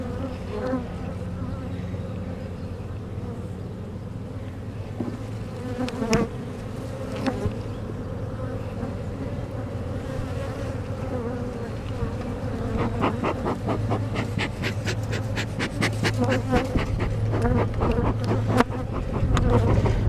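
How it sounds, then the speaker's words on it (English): A dense, steady hum of many irritated honeybees buzzing close by during an open-hive inspection, continuous throughout with occasional clicks and knocks of handling. "Now these bees are a little more irritated in this box"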